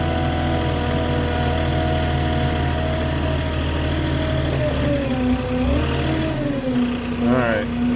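A Moffett truck-mounted forklift driving slowly on a tight backyard delivery, a steady mid-pitched engine drone with shifting tone as it revs and eases, close and continuous.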